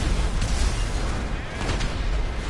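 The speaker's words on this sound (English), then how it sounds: "Explosion." An explosion in GTA 5 plays out as a sustained rumbling boom with crackling bursts and a second swell of debris noise, steady and loud throughout.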